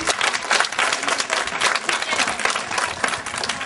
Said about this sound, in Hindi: सब बच्चों से ये अनुरोध करूंगी कि वो एक बार जोरदार तालियां बजाकर